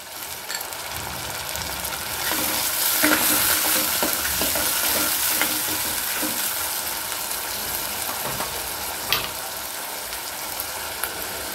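One large finely chopped tomato drops into a hot frying pan, setting off a loud, continuous sizzle with scattered stirring scrapes and crackles throughout.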